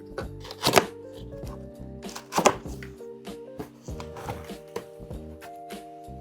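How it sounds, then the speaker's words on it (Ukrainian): Gaming PC unpacked from its box: sharp cardboard and plastic handling thumps and rustles come in bursts, two loud knocks standing out, over a steady tonal hum in the background. "Зараз я розпаковую і показую."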